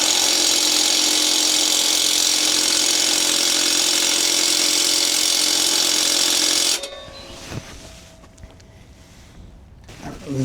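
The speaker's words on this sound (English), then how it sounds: "I can put the impact on it, but I don't know if those bolts are gonna go back in." Pneumatic impact wrench hammering on completely rusted exhaust bolts during a muffler install, a loud continuous rattling burst for about seven seconds that cuts off abruptly into quieter shop noise.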